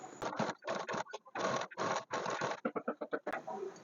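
Sewing machine stitching a blouse, running in short close bursts of rapid mechanical stitching separated by brief pauses, ending in a quicker run of separate clicks.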